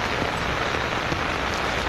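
Heavy rain pours down in Maceió, a steady, dense hiss of drops hammering surfaces nearby, unbroken for the whole stretch with no voices.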